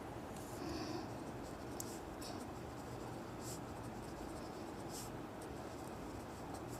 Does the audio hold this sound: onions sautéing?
no